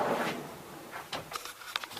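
A plywood drawer in the toe kick of a custom microwave cabinet slides shut, with a soft rolling rumble followed by a few light wooden knocks and taps as it settles.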